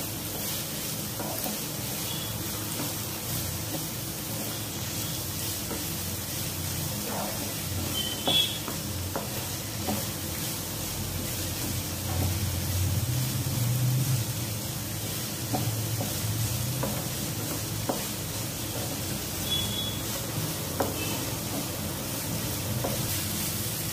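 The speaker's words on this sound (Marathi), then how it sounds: "सिमला मिरची 2 मिनिटं तेलात व्यवस्थित परतून घ्यायची आहे।" Capsicum sautés in hot oil in a pan, giving a steady soft sizzle with faint occasional stirring scrapes, continuous and close throughout.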